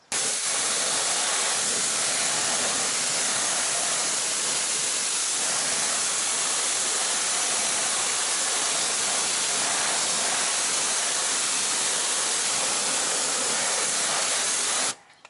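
Pressure-washer rinse spraying a Ford Mustang GT, a steady loud hissing rush of water that runs unbroken for the whole stretch before stopping at the end.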